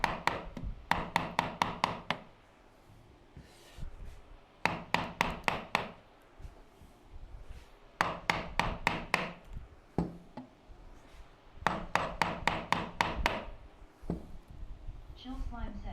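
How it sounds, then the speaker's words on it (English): Hammer tapping on wood while making bench hooks in a workshop, heard as four close bursts of quick, sharp taps separated by short pauses. "tell me if the hammer is too loud."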